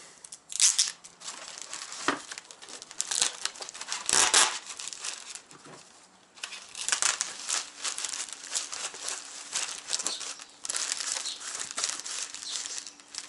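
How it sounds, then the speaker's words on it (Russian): Air-filled bubble wrap and tape are handled while packing an item, giving loud, close crinkling and crumpling in bursts, with a sharp tearing or cutting rip partway through. "сделаем для нее упаковку из такой интересной воздухонаполненной штуковины"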